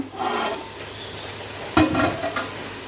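Cooked rice sautés in olive oil for fish biryani, giving a soft steady sizzle with a sharp spoon scrape and stirring clatter near the middle. No one speaks.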